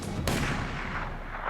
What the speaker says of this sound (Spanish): en ese momento disparé